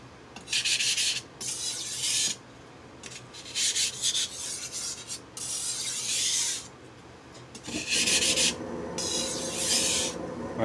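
A blade is stroked repeatedly across a Norton 1k/8k waterstone, each pass a close, gritty rasping rub in steady back-and-forth bursts separated by brief pauses.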